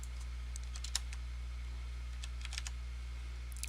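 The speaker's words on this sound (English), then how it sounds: "So I type that in, just type in that spell ID." A computer keyboard is used to type a spell ID into a World of Warcraft addon setup, producing light, scattered key taps in two short bursts over a steady low electrical hum.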